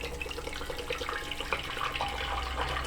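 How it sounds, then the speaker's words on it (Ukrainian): Water poured out of glass canning jars of tomatoes, a faint steady trickling and splashing that runs through the whole short clip, with no talk. "Міняємо кришечки і виливаємо нашу воду."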